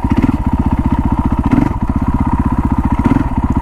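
A KTM/Husqvarna 501 four-stroke motorcycle engine creeping along in second gear, a loud, steady low thumping putter at low revs, close up and running continuously.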